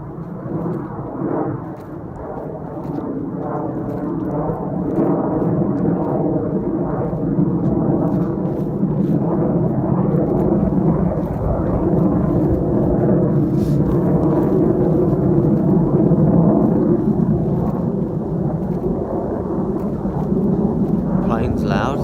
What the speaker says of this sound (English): Plane's loud.